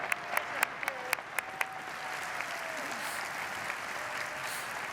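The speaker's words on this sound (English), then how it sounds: "Let's give them both, or give all of them, a big round of applause." Conference audience at a general session applauding presenters on stage: a broad, even wash of crowd clapping heard from a distance, with a few sharp nearer claps early on and a speaking voice faintly over it.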